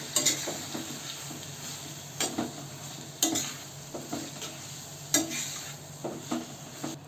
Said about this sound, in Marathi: त्यामध्ये वांगी आणि टमाट्याचं मिश्रण टाकून मिक्स करून घेऊ.